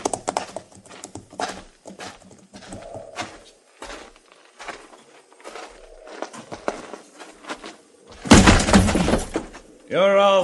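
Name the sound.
horses' hooves and neighing in a radio drama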